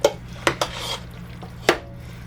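Pozole ingredients stirred in an Instant Pot make a few sharp clinks and scrapes of a utensil against the metal inner pot, irregularly spaced against a low steady hum.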